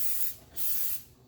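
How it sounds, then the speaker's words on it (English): Two close aerosol bursts of pan spray coating a loaf pan for quinoa banana bread, each a loud, steady hiss lasting about a quarter to half a second, with no talking. "Make sure you put a lot of spray because you don't want it to stick in here too."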